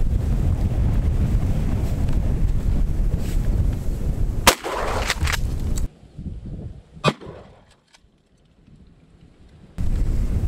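A Maverick 88 shotgun fires number 7 shot outdoors: one sharp blast rises out of loud wind buffeting, followed by another fainter crack and a lull.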